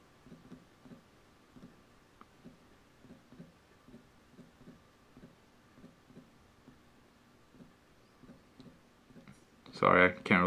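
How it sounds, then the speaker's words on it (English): A stylus taps out a steady, quick run of light clicks on an Android phone's touchscreen keyboard, close and quiet, before a louder burst of sound at the end. "I can't really type fast with the stylus"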